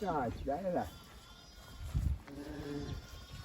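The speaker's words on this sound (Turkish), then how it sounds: "Bak kuzuların sesi geliyor." Newborn lambs on a village livestock farm bleat in wavering cries, one burst at the start and another near the end, close by. People talk between the calls, with a soft thump in the middle.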